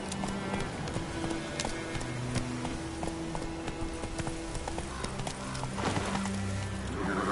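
Roach the horse galloping in The Witcher 3, with steady hoofbeats thudding close up under a soft wash of game ambience and the occasional snort, carrying on at a constant pace.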